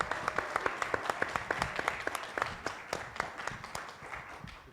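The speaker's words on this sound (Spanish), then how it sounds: "Un aplauso para nuestro Dani" Applause for a guest from a university radio station at a panel debate, with individual claps near and distinct at first, a regular rhythm that gradually thins and softens toward the end.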